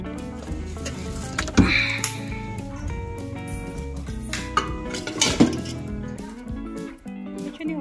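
Glasses of hot milk handled in a home kitchen, steel tumblers clinking and knocking against each other and a surface, several sharp close metallic chinks over a busy domestic background with faint voices.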